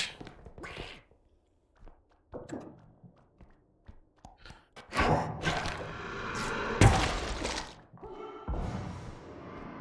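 A duck in the R.E.P.O. video game quacks amid a run of in-game thumps, thuds and bangs, the bursts uneven and growing busier toward the end.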